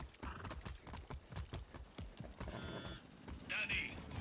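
A horse galloping in the video game Far Cry 6, its hooves beating a quick, steady clip-clop rhythm close by, with a whinny near the end and game sounds layered underneath.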